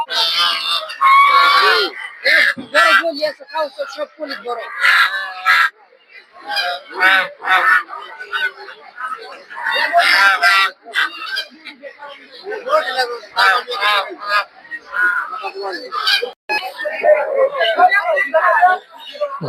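Desi and Chinese ducks at a crowded village market, their honking and quacking mixing with constant nearby chatter and crowd babble throughout.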